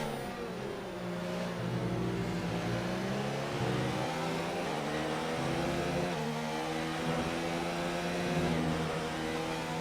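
Race cars in an Xbox racing game sweep through a series of bends mid-race, engines droning and shifting pitch steadily and loudly throughout, no voices.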